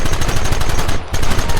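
Loud, continuous rapid gunfire from the Red Dead Redemption video game, many shots in a dense, steady volley with no pauses and no voices.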